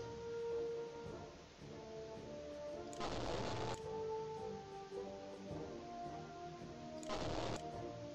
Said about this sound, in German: Artillerie mit draufhämmern